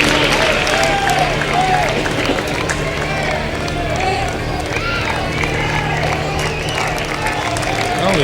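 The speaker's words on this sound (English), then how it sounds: "the LSU fans just desperate for something to cheer here in the bottom of the 8th inning" LSU fans roar in the stands at a College World Series championship baseball game against Stanford, a steady wash of distant crowd cheering and scattered clapping running under a commentator's continuous talk.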